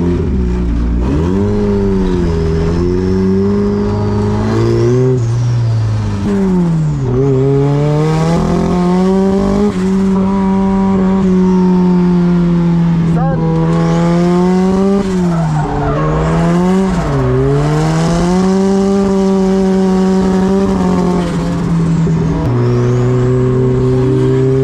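A loud untested, unmapped car engine revs hard and unevenly for about 25 seconds, pitch rising and falling in repeated surges and stumbles as it struggles to drive, close and continuous with no talking.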